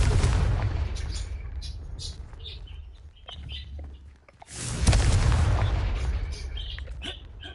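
A Confringo fire-blast spell in Hogwarts Legacy on PS5 detonates as a loud, broad boom about two-thirds through, set among continuous game ambience with chirping birds and earlier rumbling.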